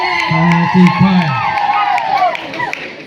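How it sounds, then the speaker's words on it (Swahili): Crowd at a traditional ceremony cheering, with high ululating trills and whoops rising over clapping and voices, loud and close for about three seconds. "Shangwe na vigelegele."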